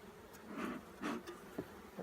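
Honey bees buzzing around a hive calmed with smoke, a few individual bees droning near and then away in short swells, fairly faint, with no talk.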